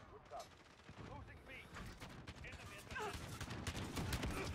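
Rapid automatic gunfire from the Call of Duty Modern Warfare video game rattles in dense bursts with layered distant shots, while a player talks over the steady barrage.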